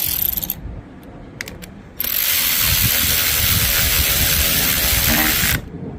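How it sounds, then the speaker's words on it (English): A ratchet tightens the clutch case screws on a Yamaha Raptor 660 ATV, its steady clicking growing loud and continuous for several seconds after a few brief, sparse clicks at the start. "we're gonna go ahead and put all of these screws in this case down"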